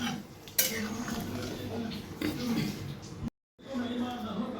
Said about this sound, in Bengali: এবার একবার এটা আমি একটু ঘেটে দেব আর আমি এটা এখন ঘেটে নাবিয়ে ফেলব